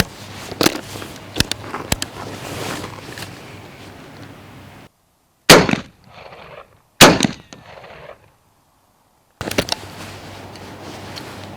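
A 12 gauge shotgun fires 00 buckshot black powder shells outdoors, with several sharp, loud blasts spread across the clip, each followed by a brief fading rumble, and quieter gaps between them.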